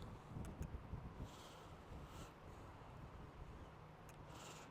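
Gusty wind outdoors near Liverpool's Anfield stadium, buffeting the microphone in a steady low rumble with a few brief stronger gusts, no voices.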